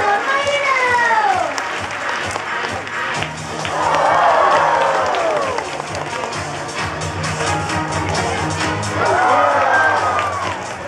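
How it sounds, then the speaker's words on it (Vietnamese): Crowd applause and cheering swell in waves beneath an amplified voice speaking over a loud, reverberant arena. "Quý vị hãy dành một tràng vỗ tay lớn cho đội Mai nào."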